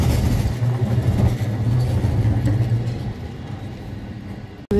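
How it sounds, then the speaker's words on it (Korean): A tram rolls out between buildings in The Hague, Netherlands, giving a steady, close low rumble that holds for several seconds before easing off. "건물 사이에서 빠져나오고 있는 트램이에요."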